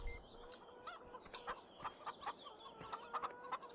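Chickens cluck on a farm in the video game Farming Simulator 2013 on the Westbridge Hills map, with soft, repeated irregular clucks and chirps at low volume and no talk over them.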